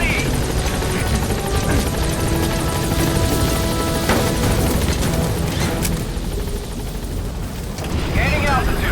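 A military helicopter in Metal Gear Solid V thumps steadily with a dense rotor roar close by, sustained throughout, with radio-style voice chatter and scattered game sounds over it.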